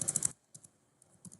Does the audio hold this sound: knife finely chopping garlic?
no